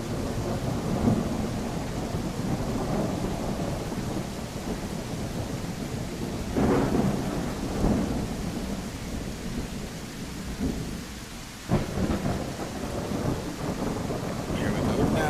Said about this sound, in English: so we can listen to the rain and the storm